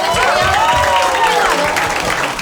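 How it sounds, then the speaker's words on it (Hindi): Audience clapping at a standup comedy show, steady applause filling the room with voices and cheers mixed in. "तो अब ये इसके लिए ताली बजाओ भाई"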